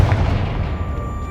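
A Confringo fire spell explodes in the Hogwarts Legacy video game, a single booming blast with a low rumbling tail that fades over about a second.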